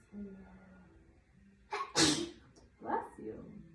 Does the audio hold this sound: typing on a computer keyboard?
no